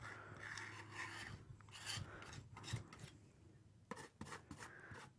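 A palette knife scrapes thick acrylic paint across a canvas while painting impasto poppies, giving a dry, raspy scraping in uneven strokes, fairly quiet and close, with short pauses between passes.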